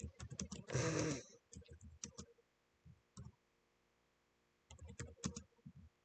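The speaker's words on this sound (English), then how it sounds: "I was just typing some stuff out real quick" Quick keyboard typing on a computer during a tabletop role-playing session, a dense burst of rapid clicks near one second with scattered keystrokes later, interleaved with people talking.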